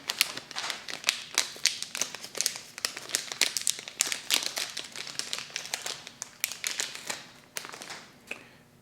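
A small plastic bag holding LED bulbs is handled up close, giving repeated sharp crinkles and rustles in quick irregular bursts that thin out toward the end.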